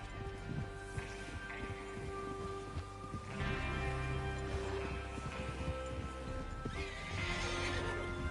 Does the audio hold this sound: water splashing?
no